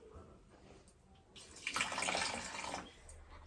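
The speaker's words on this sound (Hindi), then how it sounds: "दे हल्का सा पानी ऐड कर इसमें।" Water poured into curry cooking in a pan, a brief soft splashing gush that swells and then stops, heard close and quiet.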